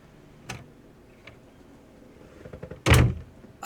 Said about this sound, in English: Who'd have thought a simple door sound effect was going to be this hard?